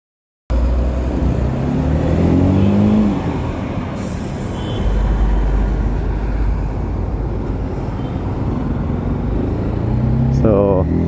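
A TVS Apache RTR 310 motorcycle revs hard while being ridden, a loud continuous engine roar with wind rush, rising and falling through gears, with a voice talking near the end.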